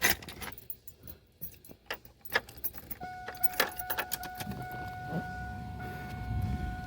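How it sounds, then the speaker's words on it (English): Right turn signal flasher on a Chevrolet Camaro Z-28 clicking in a steady rhythm, mixed with jangling keys and handling noise inside the car, with a low idle rumble building toward the end. "when I turn on the right turn signal now, I do get a turn signal"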